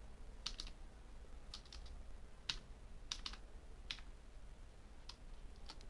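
Quiet, close computer keyboard typing while entering code comes in short clustered bursts of crisp key clicks separated by brief pauses, alone without voices.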